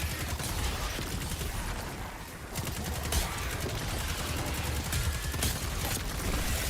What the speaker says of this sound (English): There, that's the frost explosions we're looking for.